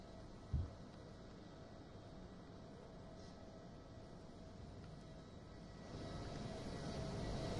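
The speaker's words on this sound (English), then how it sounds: "the special aircraft, and it's an Airbus 330" A steady distant roar of a jet engine fills the air as an Airbus A330 special aircraft arrives, with one brief thump early on and the rumble swelling slightly toward the end.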